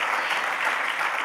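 Steady applause from an audience at an awards ceremony honouring inspiring personalities, a dense continuous clapping wash throughout the short stretch with no voices over it.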